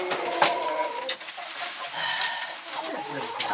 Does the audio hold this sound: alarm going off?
no